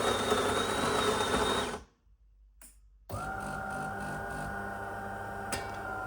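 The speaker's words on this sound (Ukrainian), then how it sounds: "давайте приготуємо еспресо, чашечка і просто натискаємо сонце" A De'Longhi Dinamica coffee machine brews espresso with a loud, steady mechanical whine and hum, falling silent briefly midway before a new, steadier pumping drone starts up, close and alone.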